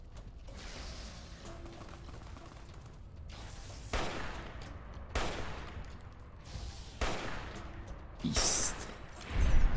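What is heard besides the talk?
gunfire from the video game Fallout New Vegas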